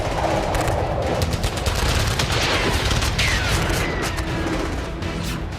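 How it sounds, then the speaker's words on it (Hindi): Gunfire is exchanged at the border between soldiers and militants in forested terrain: dense, continuous bursts of automatic fire and heavy booms overlap in a loud, sustained barrage with no voices. "आतंकियों ने फायरिंग शुरू कर दी। भारतीय जवानों ने भी जवाब देना शुरू कर दिया।"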